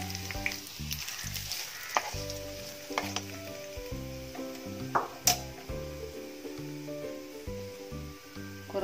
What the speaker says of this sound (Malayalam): ഇപ്പോൾ ഇത് മൂപ്പായിട്ടുണ്ട്. ഇനി ഇത് നമുക്ക് കറിയിലേക്ക് ഒഴിച്ചു കൊടുക്കാം.